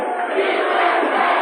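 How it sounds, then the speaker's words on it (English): A wrestling crowd at a Portland event roars in a loud, dense, sustained chant that fills the arena without a break. "Now the crowd chanting USA."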